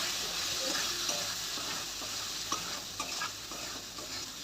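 Crab masala cooked with chilli powder is stirred in a hot pan, giving a continuous sizzle with scattered scraping strokes of the spoon and no talking.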